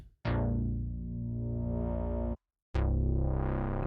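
Two sustained synthesizer notes, rich and buzzy with a wide, spacious spread, separated by a brief silence; the second starts bright and swells.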